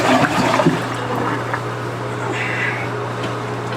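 A toilet flushing into a backed-up main drain in a store basement, a continuous close gurgling rush of water with a steady low hum beneath, lasting a few seconds.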